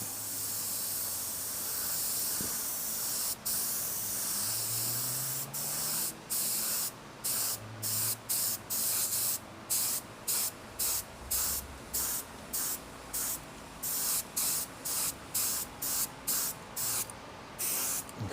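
A spray gun lays down a second base coat of auto paint for a small repair, giving loud, close hissing bursts that start as long passes and turn into a regular on-off rhythm of short sprays.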